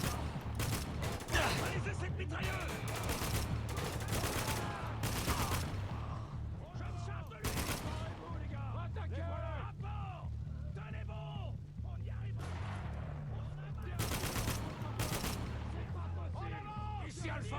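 Dense gunfire and explosions in the war shooter Spec Ops: The Line, with rapid bursts and heavy booms layered over continuous battle noise, while squad voices shout orders throughout.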